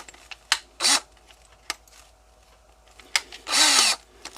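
A power drill with a 1/8 inch bit runs in two short close bursts of whirring, each under half a second, separated by small clicks and handling noises.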